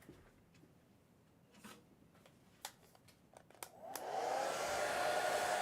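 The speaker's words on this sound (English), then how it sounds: "So let me dry this with my blow dryer." A few sharp taps and rustles, then a hair dryer switches on to dry a watercolor painting, blowing steadily at close range, a loud continuous whoosh with a whine.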